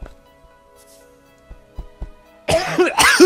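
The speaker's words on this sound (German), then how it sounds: "Ich huste auch nie im Let's Play" A couple of harsh, close coughs burst out near the end after a few soft thumps, loud against an otherwise quiet background.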